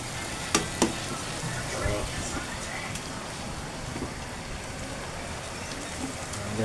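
Chicken lumpia fry in hot oil with a dense, continuous close sizzle and crackle, a couple of sharp clicks near the start, under faint background voices.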